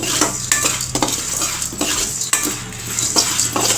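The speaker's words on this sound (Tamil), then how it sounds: "கடலப்பருப்பு உளுத்தம்பருப்பு எல்லாமே நல்லா வறுத்து வந்துருச்சு" Dry dal and fenugreek seeds rattle and scrape as a spatula stirs them around a hot pan, a steady scratchy shuffling with clinks of utensil on metal, close and fairly loud with no voices.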